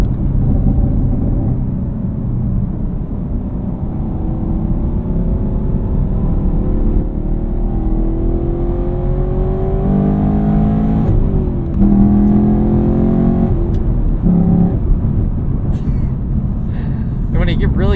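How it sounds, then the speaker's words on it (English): A 2019 Camaro SS 1LE at full throttle, its engine a loud, deep, sustained roar with rising revs and intake growl heard from inside the cabin, with a shift-like dip partway through and someone talking over it. "You really get full throttle and you put your foot all the way down, you can hear the intake open up too."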